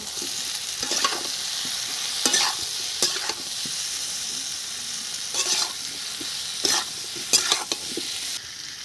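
Salt, turmeric, chilli powder and torn green chillies stir-fry in oil for a puti fish curry, giving a steady sizzle cut by repeated loud spatula strokes scraping the pan.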